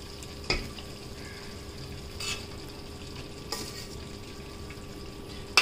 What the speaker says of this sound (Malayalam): ഇനി നമുക്ക് ഇതിൻ്റെ മുകളിലോട്ട് റൈസ് ഇട്ട് കൊടുക്കാം.